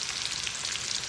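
Onion and garlic frying in a pan for white rice give off a steady, close, dense sizzle that holds evenly through one brief stretch.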